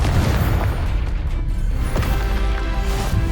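A Confringo fire spell bursts in Hogwarts Legacy combat, a loud booming blast with a crackling decay over dense, continuous game noise, followed by a further thump.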